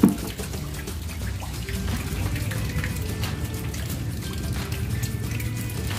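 Water drains steadily out of a catfish pond on a Thai farm, a continuous gushing, splashing flow heard close and moderately loud throughout.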